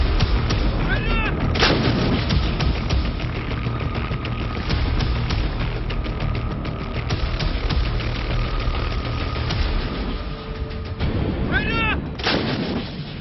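Army artillery guns fire in a desert military exercise near Jaisalmer, with heavy booming blasts at the start and again near the end over a constant engine rumble, loud and echoing across open ground.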